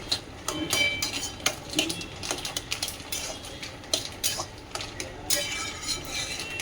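Vegetable stalks being stirred in a cooking pan with bay leaves, a run of irregular scraping clinks and stirring scuffs from a utensil against the pan, fairly close and steady, with no talking.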